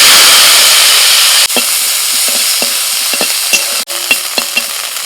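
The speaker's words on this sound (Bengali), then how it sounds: "কড়াই যে সামান্য তেল আছে ওই তেলের মধ্যে নিম পাতা দিয়ে দিচ্ছি" Neem leaves crackle and sizzle in hot oil in a kadai while a utensil scrapes and stirs, with a few sharp clinks close by.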